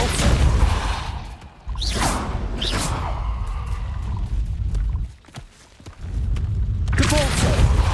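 A Depulso pushing spell fires in Hogwarts Legacy, with sharp whooshing bursts and thudding impacts over a rumbling game soundscape, loud and close, dipping briefly to quiet before swelling again; a voice speaks partway through.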